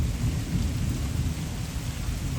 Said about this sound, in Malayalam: നല്ല ഇടി വെട്ടുന്നുണ്ടേ